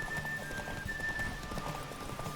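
Horse hooves clip-clop steadily through the whole stretch in The Witcher 3, a continuous run of close, even footfalls with a faint tonal hum over them.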